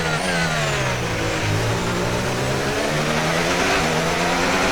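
Formula 1 car engine in the F1 26 racing game accelerating hard, a loud sustained high-pitched whine with rising harmonics and gear-shift steps, continuous and close throughout with no speech.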